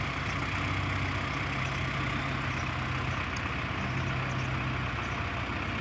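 A tractor loaded with about 150 quintals of bagasse from a mill idles with a steady low engine rumble, continuous and moderately distant, with no talk.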